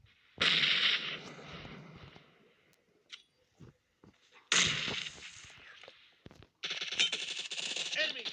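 Gunfire in the PUBG Mobile video game, coming in three loud bursts of rapid automatic shots, with short, quieter pops and clicks in the gaps between them.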